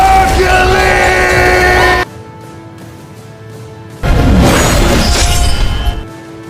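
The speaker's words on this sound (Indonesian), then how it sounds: "Hercules lalu berteriak" A man yells loudly in a dramatic film scene, two long bursts of shouting with crashing impacts between them, separated by a quieter stretch.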